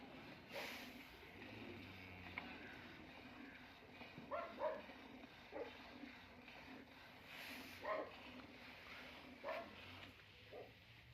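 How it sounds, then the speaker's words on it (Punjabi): A dog barks several times at a distance near cows on a farm, the short barks spaced apart over a quiet outdoor background. "ਕੁੱਤੇ ਭੌਂਕਦੇ ਪਏ ਨੇ"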